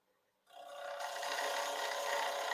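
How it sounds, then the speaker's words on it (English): A woodturning tool drilling slowly into a bowl spinning on a lathe. After a short quiet start, a loud, steady rasping scrape begins and keeps going without a break. "Just kind of drilling slowly a little hole down there"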